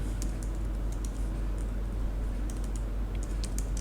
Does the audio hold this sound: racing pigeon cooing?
no